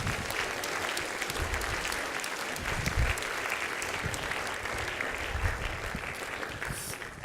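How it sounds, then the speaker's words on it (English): An audience at a live science-themed event gives a round of applause, a steady, sustained crowd clapping heard from across the room for several seconds, with no talking over it. "You should give them a round of applause as they come on."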